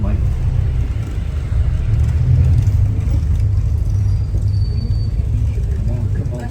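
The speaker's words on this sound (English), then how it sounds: "Look at all this traffic." City street traffic heard from inside a car near Pall Mall, a steady loud low rumble of engines and road noise with faint higher sounds drifting over it.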